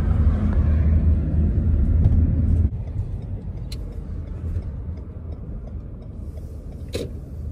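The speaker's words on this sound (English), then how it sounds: "Here comes the school bus across the street" A school bus rumbles past across the street, its engine loud at first and then dropping off abruptly as it moves away, followed by quieter traffic noise.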